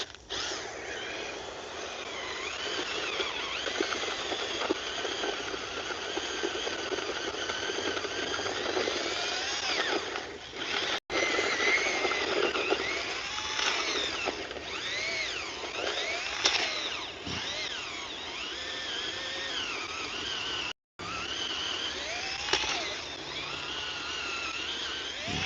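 A power drill fitted with a mixing bit churns concrete for a pull-up bar foundation, a steady whirring motor drone with shifting pitch, briefly cutting out twice before resuming.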